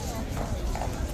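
Hooves of a police horse clip-clopping on pavement at Horse Guards amid a busy protest crowd, close and steady, under people talking nearby.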